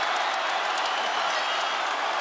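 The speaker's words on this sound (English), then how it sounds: "This crowd is on its feet." An arena crowd at a UFC 202 fight roars with sustained cheering and applause after a bout, a dense, continuous wash of noise with voices mixed in.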